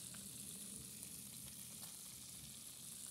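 Fish sizzles in hot oil in a pan over a wood fire, a steady, continuous frying hiss with faint crackles throughout and no talking.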